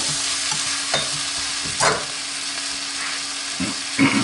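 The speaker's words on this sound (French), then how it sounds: "On fait juste torréfier la farine" Flour toasts in a pan for a pork curry, with a soft steady sizzle under scattered scraping strokes of a utensil stirring it, several distinct stirs over a few seconds.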